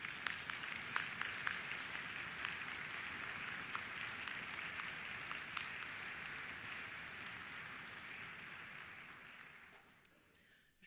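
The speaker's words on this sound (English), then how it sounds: "Can we give them a round of applause, please?" Audience applause at a concert band association event, dense clapping from a hall crowd that holds steady, then thins out and fades to near silence near the end.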